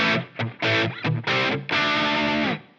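Electric guitar played through a Placater Dirty amp model on a 4x12 Cali cab, with dry settings: several loud distorted chord stabs separated by short gaps, then one sustained ringing chord, with no talk.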